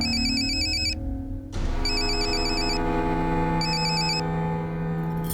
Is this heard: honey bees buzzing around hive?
no